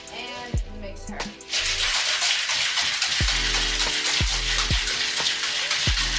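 A capped bottle of water and ice being shaken, rattling ice and sloshing water in a dense, continuous wash with repeated clunks from the ice, fairly loud and close, with no talking.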